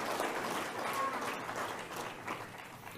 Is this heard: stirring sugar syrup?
no